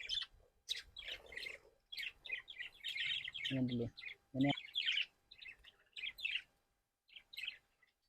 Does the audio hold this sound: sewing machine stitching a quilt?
no